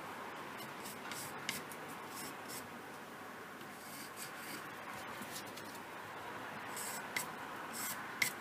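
A pencil draws guide lines across a wooden carving block being prepared for a power-carved sculpture, giving a faint, steady scratching and rubbing with a few small taps, close by and alone.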